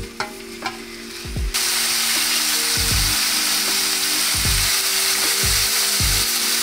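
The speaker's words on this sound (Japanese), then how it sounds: "油を引きます。 お肉を入れていきます。" Meat laid into hot oil in a pan sets off a loud, steady sizzle that fills the clip, with a sharp start about a third of the way in and repeated low thumps of the pan or utensil.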